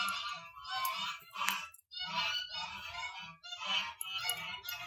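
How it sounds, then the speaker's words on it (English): A goose honks loudly and repeatedly close by in a horse-lunging arena, harsh screaming calls coming in bursts across the whole stretch with only short breaks between them. "Wait for the goose to stop screaming."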